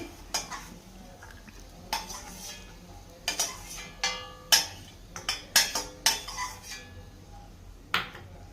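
Golden fried pieces are lifted out of hot ghee in a pan: sharp, irregular metal clinks and scrapes of a spoon against the pan ring out close by over a faint sizzle.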